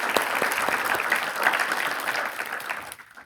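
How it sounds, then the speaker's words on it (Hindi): An audience applauds at a student discussion event about using technology for study, a burst of energetic clapping that holds steady and then tapers off into quiet at the end. "उसके लिए भी तालियां।"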